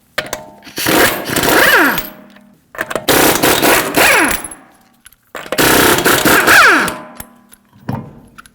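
Lug nuts being removed from a 2014-2019 Toyota Corolla front wheel, three loud bursts of rattling impact-wrench hammering, each about two seconds long and ending in a falling whine, separated by short pauses.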